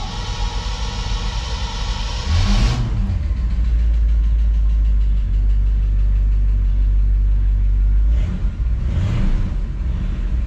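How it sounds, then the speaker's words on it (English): A Bel Air's engine idles steadily after a cold start, having sat for several days. The low rumble is close and continuous, with two brief rises in revs partway through and no voices. "I'll let the engine warm up while I dust it off"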